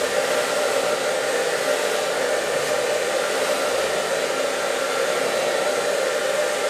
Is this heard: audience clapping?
no